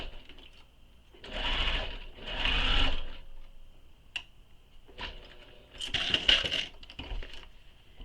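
A sewing machine stitches a seam on a handmade vinyl espresso wallet in short bursts, three main runs of rapid buzzing separated by quiet pauses and a few clicks, close and moderately loud.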